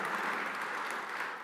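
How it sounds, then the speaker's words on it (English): Audience applause at a breakfast event where New York Governor Kathy Hochul speaks, a steady dense wash of clapping held at even loudness throughout the short stretch, with no talk over it. "you can give that a round of applause"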